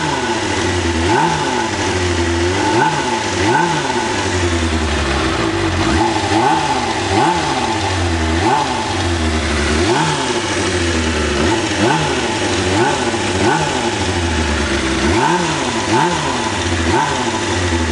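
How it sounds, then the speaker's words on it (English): A Kawasaki ZXR400 motorcycle engine revs repeatedly, loud and close, with the pitch rising and falling in regular blips about every second over a continuous rumble. "I'm gonna rev it."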